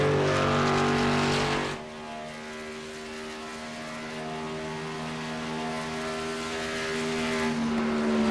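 Race trucks at Indianapolis in a racing video game roar past the track, a loud engine drone that drops as one passes and then swells again as another approaches, with no talking.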